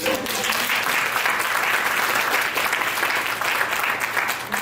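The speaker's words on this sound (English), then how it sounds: "Let's give it a clap." Steady, dense applause from a conference audience fills the room at a career event, holding evenly loud for several seconds with no pause and faint talk underneath.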